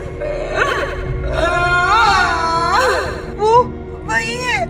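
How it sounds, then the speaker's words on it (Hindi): A woman's wavering, moaning cry outside a room in a horror story, rising and falling in drawn-out wails with sobbing breaks, fairly close and loud, with eerie ambience beneath. "अचानक कमरे के बाहर किसी महिला की रोने की आवाज आती है।"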